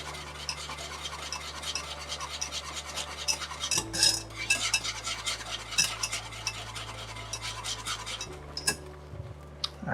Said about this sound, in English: Just continue to whisk, right?